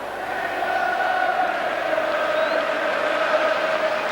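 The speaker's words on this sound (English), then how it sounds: "So as the crowd pick up the England chant" England football crowd at an England v Argentina match chanting in unison, a steady, sustained roar of massed voices filling the stadium at moderate distance without pause.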